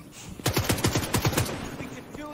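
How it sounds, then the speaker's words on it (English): Enemy gunfire in The Division 2 comes as a rapid burst of about nine close automatic shots in a quick even rhythm, then fades out. "there's a whole bunch of enemies back there shooting"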